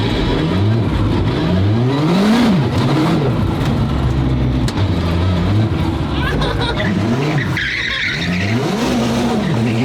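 A 1,300 wheel-horsepower twin-turbo Ferrari F12 running on race fuel revs hard and loud in repeated rising and falling sweeps. Tire skidding and squeal mix in on a patchy, low-grip surface.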